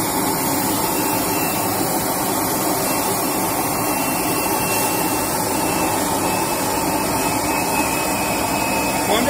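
An electric motor on a protection and automation control panel runs with its air intake deliberately blocked to simulate clogging, giving a loud, steady, unbroken whirring roar like a vacuum cleaner throughout, with no talk.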